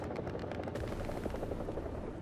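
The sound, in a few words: helicopter flying in video game War Thunder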